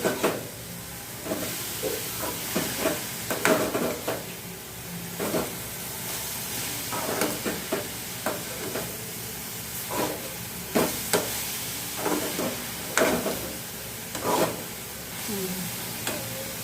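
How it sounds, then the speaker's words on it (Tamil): Beetroot pieces with salt sauté in a pan, a continuous sizzle broken by repeated scraping strokes of a spoon stirring, close up and fairly loud, with no voices. "போட்டு கொஞ்சம் நல்லா வதக்கி விட்டுருவோம், கிண்டி விட்டுறணும்"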